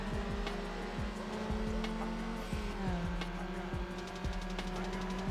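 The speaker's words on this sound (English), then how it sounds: "this shares the same engine sound with the Dodge Neon" An engine note in Need for Speed Underground, the same one used for the Dodge Neon, revs and drops repeatedly as gears shift, with a loud, steady whine and rhythmic pitch sweeps and no talk.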